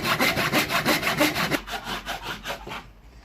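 A hand saw cuts through a piece of wood with about a dozen rhythmic back-and-forth strokes, close and loud. The rasping slows and softens toward the end as the cut finishes.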